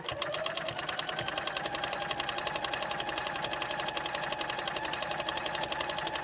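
A sewing machine stitching a crumb quilt block: a fast, even mechanical clatter running continuously throughout, close and moderately loud with no talk.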